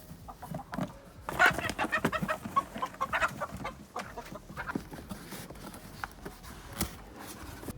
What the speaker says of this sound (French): je vais essayer de mettre les poules dans leur beau poulailler